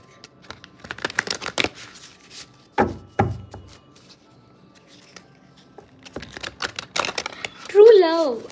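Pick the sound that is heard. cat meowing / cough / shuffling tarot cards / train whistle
shuffling tarot cards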